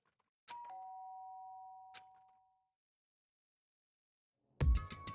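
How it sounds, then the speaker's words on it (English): A two-tone doorbell chime rings once in the Danganronpa video game, clear and isolated against silence, followed after a pause by a brief burst of a different sound. "did I hear the doorbell?"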